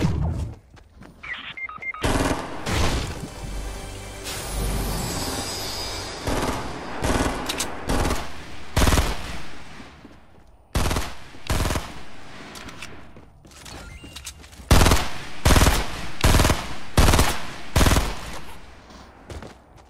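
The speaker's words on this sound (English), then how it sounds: "Who you shooting at, Dwayne?" Rapid bursts of gunfire in the video game Fortnite crack out in repeated volleys, loud and close, with short pauses between strings of shots and brief pops scattered through.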